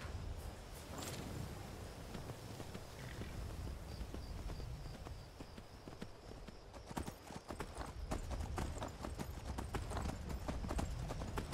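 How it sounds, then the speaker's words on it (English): Steady clip-clop of horse hooves trotting along continuously in the video game Skyrim, fairly close, with occasional sharper hoof strikes and no talking. "I'll go ahead and take the horse."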